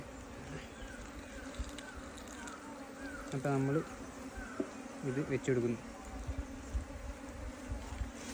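Honey bees hum around an opened beehive full of bees during a honey harvest, a steady dense buzz with a few louder close passes, under someone talking.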